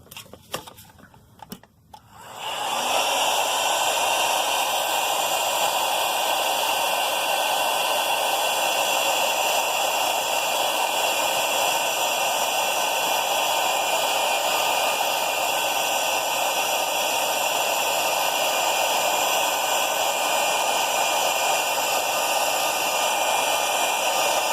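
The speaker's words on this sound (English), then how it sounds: "So let's shrink tube that. I got a heat gun." A heat gun shrinking heat-shrink tubing over an earbud cable starts after a couple of seconds of quiet clicks, then blows a loud, steady, hissing roar that holds unchanged for over twenty seconds with no talk.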